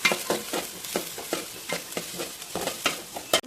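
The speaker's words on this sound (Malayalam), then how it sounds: "ഇത് നന്നായിട്ട് വഴറ്റി കൊടുക്കണം." Carrots and mixed vegetables sautéing in a pan for chicken fried rice, with a steady sizzle and repeated scraping strokes of a spatula stirring at a quick, regular rhythm, close and moderately loud.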